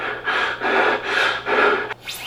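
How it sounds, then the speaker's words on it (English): Dental drill or Dremel-style rotary tool in a haunted-house scare effect, four sustained whining grinding bursts of about half a second each, close and fairly loud, ending with a short rising squeal. "Oh, a dental drill."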